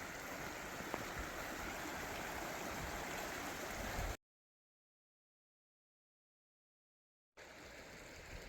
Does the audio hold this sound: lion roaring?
no